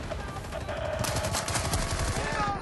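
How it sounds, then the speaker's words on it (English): Video game gunfire from an attacking match on the Val Pariso map, rapid automatic bursts rattling continuously with sharp reports, loud and close, mixed with game background noise. "And I'm still getting shot in the back."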